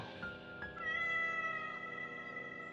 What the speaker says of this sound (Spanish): Extrañado, puso atención y de nuevo escuchó aquel maullido.